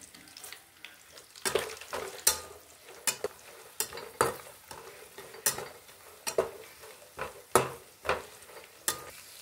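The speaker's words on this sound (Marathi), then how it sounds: "तर आता याच्यामध्ये जिरे घालायचं आहे।" Cumin seeds fry in a pan for poha while a utensil scrapes and stirs them in steady, repeated strokes over a low, close sizzle.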